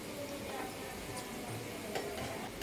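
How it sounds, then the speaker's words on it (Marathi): Crispy onion pakodas fry in oil over a medium gas flame, giving a faint, steady bubbling sizzle with light ticking crackles throughout, close but quiet. "दोन्ही बाजूंनी भजी मस्त असे खरपूसाचे तळून घ्यायचे."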